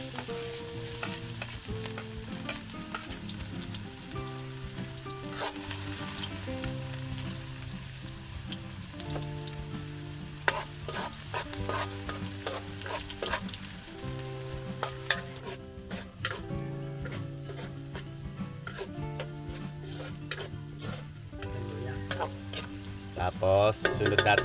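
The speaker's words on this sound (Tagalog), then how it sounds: "hulog po natin ng bawang" Garlic sizzles and crackles steadily in hot oil in a pan as the start of a Filipino batchoy with pork innards and misua, with soft stirring scrapes and sharp pops rising toward the end, quiet and close with no talking.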